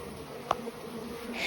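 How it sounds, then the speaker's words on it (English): Honey bees buzz around their hive in a garden setting, a faint, steady hum with one insect passing close by, briefly louder, while the drone rises slightly toward the end. "be careful not to get this up close and personal with your bees"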